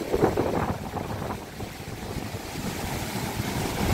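Sea water surges and washes ashore toward homes in a steady, rushing roar, with gusty wind buffeting the microphone throughout.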